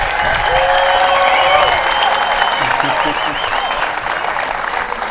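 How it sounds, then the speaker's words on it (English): A crowd at the 2025 US Open Pickleball applauds loudly and steadily, with cheering voices mixed into the clapping throughout. "One more round of applause for these two amazing athletes."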